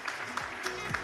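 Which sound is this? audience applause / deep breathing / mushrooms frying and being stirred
audience applause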